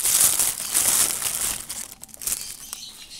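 Plastic wrapper crinkling as a pink L.O.L. Surprise Bling ball is opened by hand, a steady close crackle that thins out toward the end.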